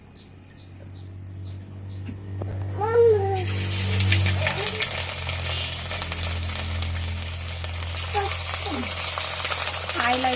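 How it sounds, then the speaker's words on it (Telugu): Fish frying in a little oil in a pan, a steady close hiss and crackle that swells after a few seconds and runs on, with voices and high chirps heard early on. "ఇవైతే మంచిగా ఫ్రై అయిపోతున్నాయి"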